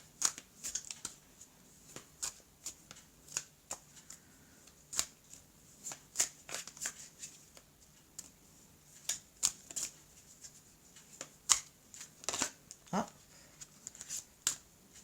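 Tarot cards shuffled by hand for a reading, with repeated crisp riffling snaps and flutters in an irregular rhythm, close up, with occasional soft talk underneath.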